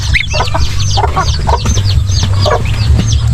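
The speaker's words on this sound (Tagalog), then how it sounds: "Ilalabas na natin si Gansa" A goose honks and calls repeatedly up close while being let out in a rural farmyard, loud and continuous over a low background hum.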